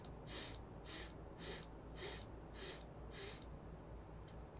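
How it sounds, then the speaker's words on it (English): Six quick, evenly spaced sniffs of breath drawn in through the nose during a breathwork exercise, close and soft over a low background hum, with no talking. "instead of just inhaling one time, you take 8 sniffs"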